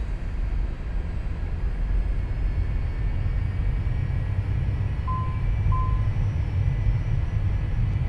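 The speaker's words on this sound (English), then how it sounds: "Throttles set for takeoff." Simulated Cessna Citation II (Carenado S550) twin jet engines spooled to takeoff throttle in X-Plane 11, a steady low, dense rumbling roar throughout, with two short faint beeps partway through.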